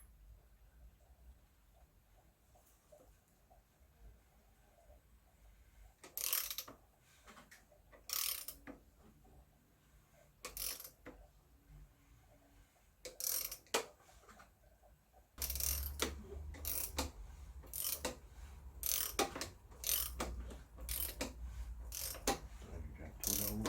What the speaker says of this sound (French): Là, tu vas serrer un peu la vis.